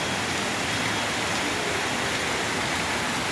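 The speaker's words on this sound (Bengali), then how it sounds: "আজকে রবিবার জয়পুর রাজস্থান প্রচণ্ড বৃষ্টি হচ্ছে" Heavy rain pouring on a Sunday in Jaipur, Rajasthan, recorded from an office: a loud, continuous hiss of downpour, broad and unbroken, with no voices over it.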